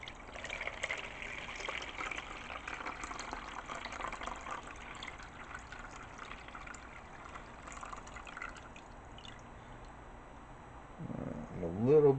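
Water for Chicago deep dish pizza dough pours steadily into a container on a scale, a continuous trickling fill lasting about eleven seconds before the stream stops, with a brief voice at the end.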